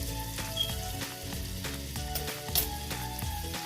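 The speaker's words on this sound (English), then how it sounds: "So I'm gonna go ahead and put some minced garlic on here." Minced garlic sizzles in a pan with a steady, dense frying hiss under a layer of tonal background hum, close and continuous, with a couple of brief louder clinks and no talking.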